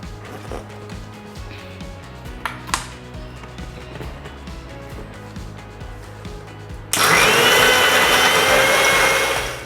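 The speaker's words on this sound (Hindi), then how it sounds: "अब इसको ग्राइंड करेंगे।" A blender grinds a sugar-free watermelon drink with black pepper and black salt, starting suddenly after quiet kitchen clatter and running as a loud, steady whir to the end.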